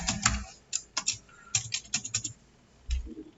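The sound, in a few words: typing password on computer keyboard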